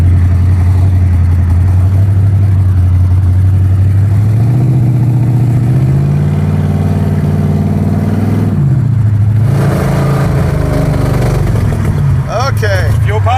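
A car engine runs steadily and loudly while the car is being driven, its drone rising and falling in pitch as it revs, continuous throughout, with a brief rustle near the end.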